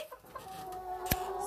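A nearby chicken lets out a soft, low cluck over a quiet outdoor background during a visit to collect eggs. One sharper, brief call sounds near the end, with no speech.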